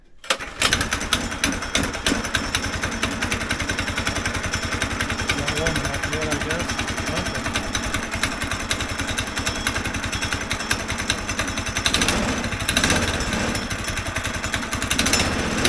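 A go-kart engine runs steadily with a rapid, rattling buzz throughout and a slight rise near the end, while people talk under the noise.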